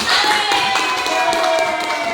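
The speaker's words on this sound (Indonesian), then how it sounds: "Kita beri tepuk tangan dulu untuk kelompok" Clapping from an audience for a group during a teaching-skills session, with scattered individual claps over a bed of voices and background sound, moderately loud and brief.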